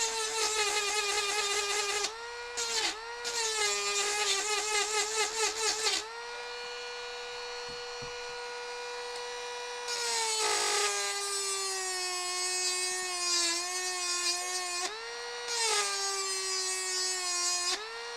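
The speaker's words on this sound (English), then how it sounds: "Sounds like a dentist drill." Loud, high-pitched power drill whining like a dentist drill, a strong steady tone with rich overtones that cuts out briefly, dips and restarts several times across the run.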